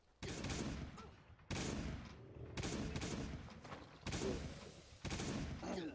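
Gunfire in the survival video game Last Day on Earth, with a shotgun in play: five loud, sharp bursts of shots at roughly regular intervals, each ringing briefly before the next.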